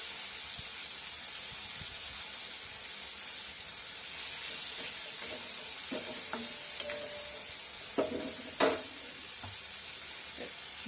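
Green chillies and ridge gourd fry in a pan with a steady, close sizzle. A few sharper clinks and scrapes of stirring come near the end, and no one speaks.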